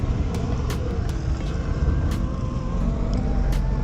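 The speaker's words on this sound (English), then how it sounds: "And got a truck coming through here." Truck rolling slowly past on a road, a continuous low rumble and tire roar at close range throughout, with faint sharp clicks over it.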